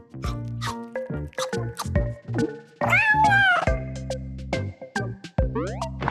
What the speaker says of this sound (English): Meow! Some more cats want to play.